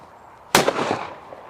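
A single sharp shotgun blast from an inexpensive 16 gauge fired at clay targets, loud and close, with a short echoing tail fading afterward.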